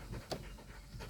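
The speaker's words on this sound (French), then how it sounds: "c'est mon chien encore qui vient." A dog pants close by in a quiet room, a steady run of quick breaths over about a second with one sharper snort-like burst partway through.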